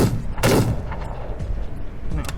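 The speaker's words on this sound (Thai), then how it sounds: "ปืนเนี้ยยิงไปสองนัดลดไปหกสิบแปดถือว่าดีนะ" A Lancaster Pistol fires in the Western shooter game The Wild West, giving one loud, close booming shot near the start, followed by a fainter second report toward the end over a low background rumble.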